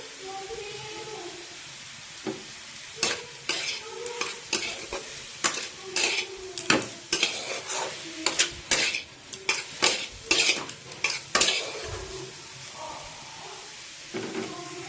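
A spoon stirs cauliflower paratha filling with turmeric in a sizzling pan, giving repeated sharp scrapes and clinks over a steady frying hiss, with no talk.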